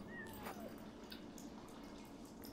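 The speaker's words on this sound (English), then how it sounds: "Oh, I hear a cat." A cat meows once, faintly and briefly, in the video game Yonder: The Cloud Catcher Chronicles, rising over steady ambient game noise with soft drips.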